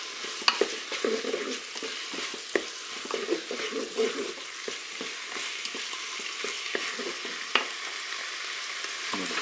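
Chicken with pineapple browning in the bowl of a Cookeo multicooker, a steady close sizzle broken by sharp scrapes and clacks of stirring utensils, with no talking.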